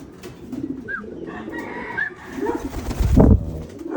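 Pigeons coo in low bubbling calls after landing, mixed with a few higher chirps and a loud thump or flutter near the end, close by.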